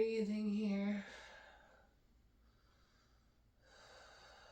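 Audible breath during a revolved chair yoga twist, a strong snorting exhale through the nose followed by quieter breathing and a softer breath near the end, close and intimate.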